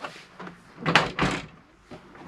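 A short plastic fridge door latch in a 2013 Tracker RB caravan is pushed and slid out with a couple of quick clicking, scraping movements, close by and brief.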